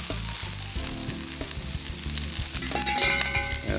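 Roast pork and noodles hitting a hot pan of vegetables for BBQ pork lo mein, a steady loud sizzle with clattering and stirring knocks throughout.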